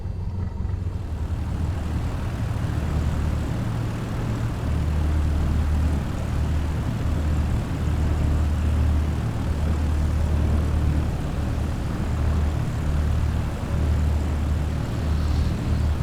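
A Cessna in a bush-pilot flight simulator taxis onto a strip runway, its propeller engine a steady, close, droning hum that holds evenly throughout with no voices.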